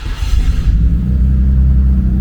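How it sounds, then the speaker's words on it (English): Nissan Skyline GT-R engine and exhaust heard from inside the car, a loud deep rumbling drone that settles into a steady low hum with no talking. "Let's hear how it sounds from inside the car."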